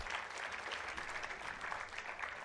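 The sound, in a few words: audience applause for panelist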